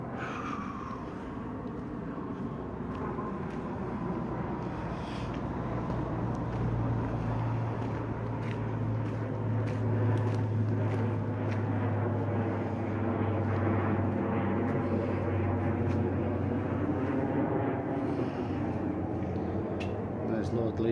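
An aircraft from Liverpool Airport passes overhead on a calm night, a continuous low engine rumble that swells gradually and holds steady across the whole stretch, with a person speaking quietly over it.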